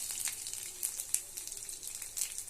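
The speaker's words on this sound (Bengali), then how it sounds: "পাঁচফোড়ন দিয়ে ভেজে নিচ্ছি, ঢেলে দিলাম।" Panch phoron whole spices crackle and sizzle in hot oil in a pan after green chillies have been fried, a steady close hiss with small popping bursts throughout.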